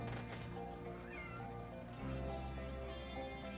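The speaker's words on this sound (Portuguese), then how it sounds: "a minha gata tá miando aqui querendo entrar" A female cat meows repeatedly outside a door at night, wanting to be let in, with several drawn-out, fairly faint cries over a quiet room background.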